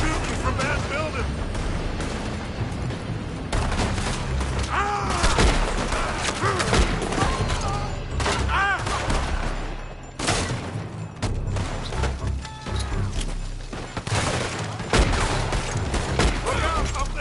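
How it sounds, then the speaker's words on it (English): Gunfire from a building in the Western video game Red Dead Redemption 2, a loud, dense fusillade of shots and booms running throughout amid shouting voices and battle noise. "They're shooting from that building."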